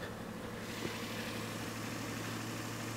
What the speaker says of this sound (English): We should start the engine